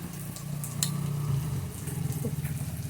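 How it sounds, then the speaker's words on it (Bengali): Spice masala for a soybean curry sizzling and being stirred in a hot pan, a steady close crackle with soft scraping, no talking. "মশলাটা ততক্ষণে কষানো হোক"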